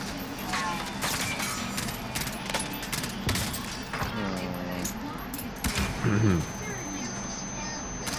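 Gunfire in Call of Duty Warzone, rapid bursts of shots cracking in quick clusters, with some sharper single reports, mixed under frequent talking and game noise.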